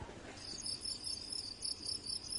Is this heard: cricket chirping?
yes